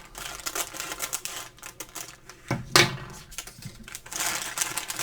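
Plastic packaging of a pack of Bic pens being opened, with crinkling, rustling and a few sharp clicks and snaps, one louder crack standing out in the middle, with nobody speaking.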